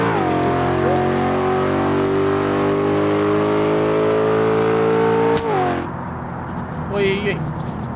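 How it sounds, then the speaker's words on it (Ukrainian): A BMW X4 pulling away and accelerating, engine tone climbing steadily through the gears before dropping off, loud and close, with a person speaking over it. "BMW. Поїхали. BMW X4"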